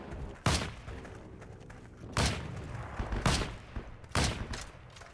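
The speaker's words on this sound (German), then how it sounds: "Schieße mein ganzes Magazin leer und mache ihn wieder." Gunfire in the online shooter Heroes & Generals: three loud, sharp shots spaced about a second or more apart, each with a booming tail, over a low background rumble.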